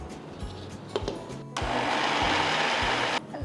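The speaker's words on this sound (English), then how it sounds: "we are going to grind everything to a nice doughy consistency" A mixer grinder grinds leftover rice and wheat flour into a chapati dough, a few handling knocks and then a loud whirring motor burst lasting under two seconds before cutting off.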